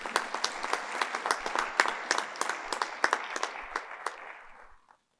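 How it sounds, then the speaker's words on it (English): Secondary school students at a forum give themselves a round of applause for their fundraising: a steady burst of many hands clapping that stops abruptly after about five seconds. "I'd like you to give yourselves a round of applause"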